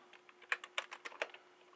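Fingers type a Linux command on a computer keyboard, a quick run of a dozen or so soft, close key clicks in an uneven rhythm, faint and without talk.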